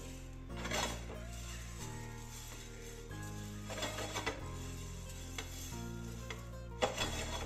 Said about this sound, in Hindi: दोनों चीज़ों को ड्राई रोस्ट कर लेते हैं इस तरह से हिलाते हुए